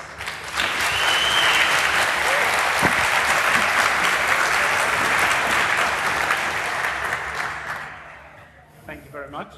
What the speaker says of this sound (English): So a big round of applause for those guys.